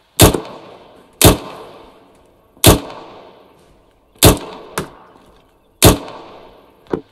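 Rifle shots fired at a rapid rate in the military game Arma 3, six or seven loud sharp reports spaced about a second apart, each with a decaying tail.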